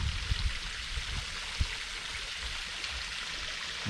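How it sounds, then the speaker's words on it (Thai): Steady broadband splashing and gurgling of a pond aerator churning water in a fishing pond, continuous and fairly close, with a few low thumps and no voices. "กำลังเติมออกซิเจนในน้ำนะครับ"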